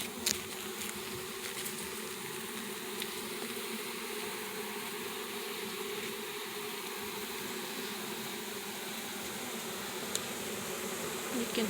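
Angry bees hum in a steady, dense drone that persists throughout, with a few faint clicks and taps nearby and no talking.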